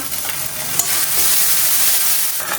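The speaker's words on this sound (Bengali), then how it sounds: "কড়াই দিয়েছি সরিষার তেল তেজপাতা কালো জিরে শুকনো লঙ্কা ফোড়ন দিলাম" Whole spices (bay leaf, black cumin and dried chilli) crackle and sizzle in hot mustard oil in a wok, a steady broadband frying hiss with occasional pops, close and fairly loud, with no talking.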